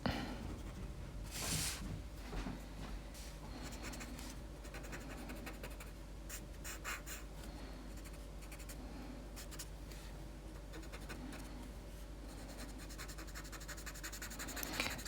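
Graphite being gently blended with a tortillon on a small Zentangle paper tile, a soft, steady scratchy rubbing that continues with brief louder strokes, close and quiet, with no talking.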